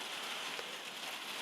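Rain falling steadily outdoors, a soft continuous hiss of drops with no distinct impacts, faint and even throughout, no talking.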